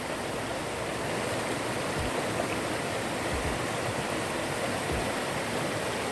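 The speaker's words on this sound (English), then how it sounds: "See the little waterfall running?" A small waterfall in a Jamaican river pours with a steady, broadband rushing wash that holds constant throughout, with a few faint low thumps underneath and no talking.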